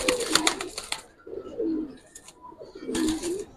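Domestic pigeons kept for breeding coo in soft, throaty bursts, three separate calls close by, with short quiet gaps between them.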